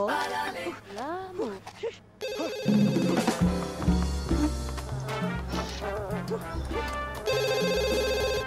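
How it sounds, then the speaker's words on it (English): A telephone rings in The Sims 2, its repeated electronic trill sitting over lively game music and sound effects, with someone talking over it. "Yep, the phone's ringing."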